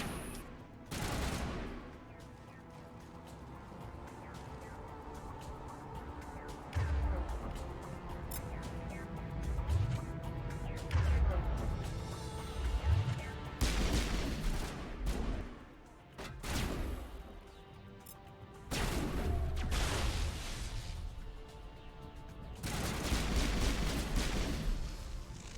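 Gunfire in the video game Mass Effect, including sniper rifle shots, heard as scattered sharp reports and short volleys amid crashes and impacts, at moderate loudness and spread across the whole stretch.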